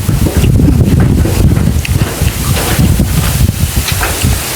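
Wind buffets a microphone outdoors in the countryside, making loud, uneven low-frequency rumbling and gusting that continues through the whole moment with no voices.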